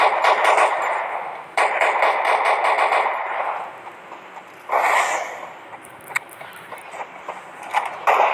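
Automatic gunfire in a video game, loud and close, rattling in rapid bursts that stop and start, with a few sharper single shots and quieter clatter between volleys.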